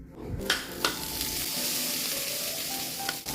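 Food sizzles and crackles steadily in a hot, worn frying pan where it sticks to the bottom, with a few louder pops and clinks of a utensil stirring.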